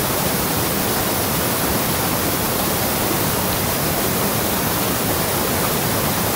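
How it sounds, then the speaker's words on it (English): A waterfall on a Tennessee property, swollen after 22 hours of rain, roars as a dense, loud, unbroken wash of rushing water with no pauses or other sounds. "And another different view looking at my waterfall."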